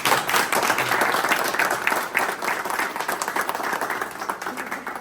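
A group in a room bursts into loud, dense applause that holds steady for several seconds, close and energetic, with faint voices mixed in.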